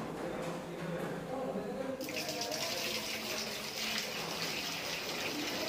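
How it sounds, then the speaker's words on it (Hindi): Water starts gushing through a newly repaired drilling pipe at a bungalow, a steady broadband rush that jumps louder about two seconds in and keeps flowing strongly and close by. "आप देख लीजिए पानी चालू होने वाला है"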